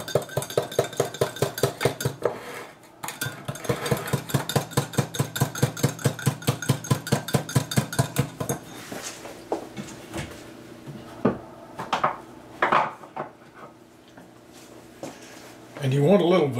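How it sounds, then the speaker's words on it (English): Rapid, steady clinking of a whisk against a bowl as peach cobbler ingredients are beaten into juice, regular strokes for about eight seconds, then scattered knocks and handling sounds. "And dump that in the juice. And whisk it together."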